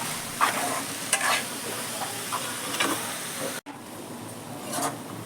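A spoon stirs a thick, sizzling coconut sweet mixture with cardamom powder in a pan, steady scraping and hiss continuing close and loud, with one brief break partway through.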